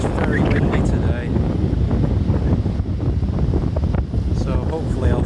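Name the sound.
strong wind on a beach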